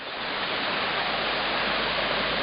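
A small waterfall on the Zhabrivskyi mountain stream in the Carpathians gives a steady, close, full rushing roar of falling water that holds even throughout, with no voices.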